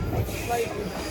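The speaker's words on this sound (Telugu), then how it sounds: "కరెక్ట్గా దుగ్గిరాల నుంచి 4 గంటల 20 నిమిషాలకి అయితే స్టార్ట్ అయింది మన ట్రైన్" The Krishna Express, running after departing Duggirala, rumbles along the track with steady rolling rail noise and a faint wheel squeal, heard from inside the train under some background voices.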